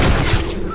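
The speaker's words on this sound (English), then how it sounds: "Ih, acertei o cavalo, mano. Matei um cavalo sem querer, mano." Gunshots striking a horse in a Western video game: a loud close burst of shots with a booming low thump that quickly tails off into a fading ring.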